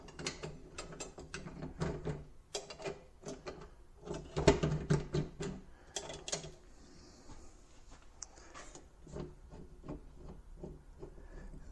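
A metal bending roller forms a steel pinball ball guide, giving off a run of close, repeated mechanical clicks and ratcheting clatter with grinding rolls, steady across the whole stretch and peaking midway, with no one speaking.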